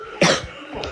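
A single short cough sounds close by, followed by a fainter second throaty burst a moment later.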